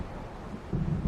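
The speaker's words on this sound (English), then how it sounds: "It seems there's a storm coming." Storm wind and distant thunder in the Alan Wake Remastered video game: a steady low windy rumble that swells into a heavier, louder roll in the second half, with no talk.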